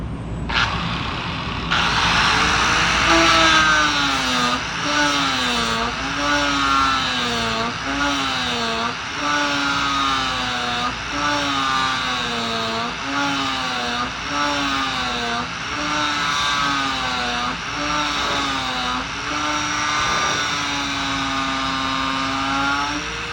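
A DA sander grinding down welds on metal, a loud, close, continuous tool whine whose pitch dips and recovers in a regular rhythm as pressure shifts across the weld.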